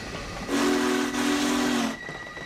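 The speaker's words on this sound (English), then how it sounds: "demonstrate off this massive big boy 4880 Loco" A Union Pacific Big Boy 4-8-8-4 steam locomotive in Train Simulator Classic sounds a loud, sustained chime whistle for about a second and a half over a steady rumble of the moving train, then the blast cuts off.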